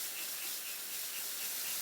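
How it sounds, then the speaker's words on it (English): A fine, even spray of water hisses steadily down onto layered compost materials as each layer is soaked, a continuous close wash of sound with no voices. "Watering in between every layer."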